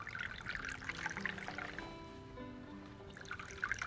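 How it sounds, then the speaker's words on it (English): Tea being poured in the TV show Firefly, a faint, soft stream of liquid trickling into a cup, steady for a few seconds under quiet background music. "She's always delicately pouring tea."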